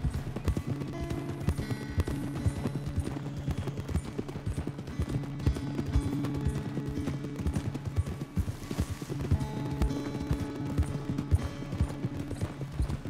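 Horse hooves clip-clop at a brisk trot in Red Dead Redemption 2, a steady close rhythm of hoofbeats running throughout alongside faint background game sounds.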